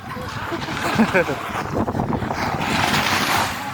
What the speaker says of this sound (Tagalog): Totoong dagat na yan guys oh